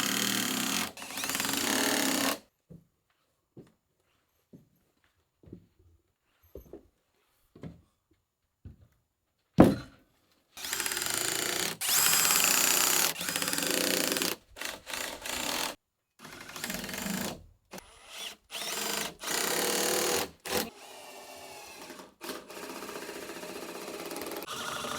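A power drill driving screws into timber framing for an off-grid cabin wall, heard in several loud buzzing bursts of varying length, separated by brief gaps and quiet stretches with faint knocks.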